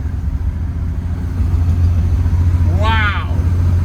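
A 1965 Ford Mustang with a 200 inline-six and a T5 five-speed conversion cruises in fifth gear at about 1400 rpm and 60 mph. It gives a steady, close, low engine drone, with a brief rising whine near the end.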